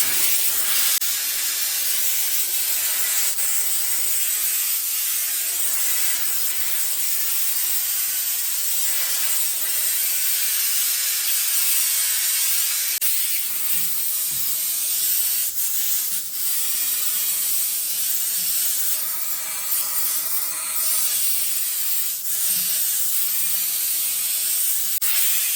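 Silvercrest SDR 1050 D1 hand-held steam cleaner pushing steam through an extension hose and angled nozzle against bathroom joints, a steady close hiss with scrubbing rub running unbroken for the whole stretch, no voices.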